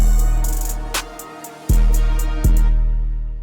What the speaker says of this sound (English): And now let's talk about the 808 and how to make it sound like this.